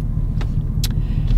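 Steady, low engine rumble from inside a truck cab, close and continuous, with a few faint clicks and no one talking.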